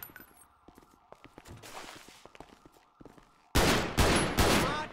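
Sharp gunshots in GTA V, scattered single shots and footsteps at first, then several loud, close bursts of fire in the final seconds, with no talking.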